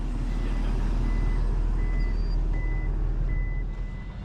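A Terex dump truck backs up to dump its load, its reversing alarm beeping in steady evenly spaced pulses over a loud continuous engine rumble at a work site.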